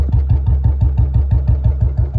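A 2019 Royal Enfield Bullet motorcycle with a BS4 engine idles up close, its loud single-cylinder thump beating in a fast, even rhythm with a clattery edge.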